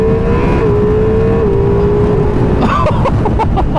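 A Ducati Multistrada V4 Rally motorcycle engine drones loudly under load, its pitch stepping through quick-shifter gear changes before a burst of sharp pops and crackles near the end.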